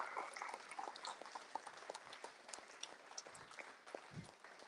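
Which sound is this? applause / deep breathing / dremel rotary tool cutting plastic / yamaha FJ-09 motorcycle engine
applause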